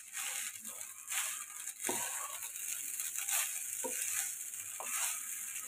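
Vegetable fried rice with soy sauce and spring onions is tossed and stir-fried in a pan, a hissing sizzle with rustling, scraping strokes of a spatula, moderately quiet and close, without speech.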